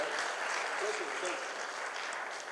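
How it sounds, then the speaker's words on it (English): Audience applause in a live presentation hall after a talk, steady clapping filling the whole stretch at a moderate, slightly distant level with some mixed voices. "I hear more applause now."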